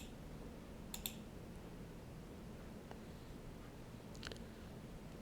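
Two crisp, faint computer mouse clicks on a search button, spaced a few seconds apart over quiet room hiss.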